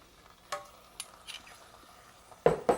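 Peas with ketchup warm in a pan on the stove, with a faint low sizzle under a few sharp clicks and scrapes of a utensil stirring against the pan, ending in two louder scraping strokes.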